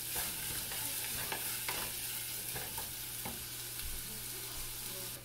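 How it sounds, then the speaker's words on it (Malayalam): Onions sautéing in a pan for mushroom pepper masala give a steady close sizzle and frying hiss, with occasional light stirring scrapes and clicks, and no voices. "അപ്പം ഞാൻ ഉള്ളി വഴണ്ട് വരാൻ വേണ്ടിയിട്ട് അടച്ച് വെക്കുകയാണ്"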